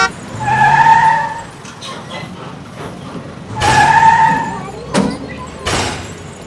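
A car on a road brakes hard with tires squealing, then thumps over a speed bump, followed by another squealing brake pass and sharp impact bangs, loud and close.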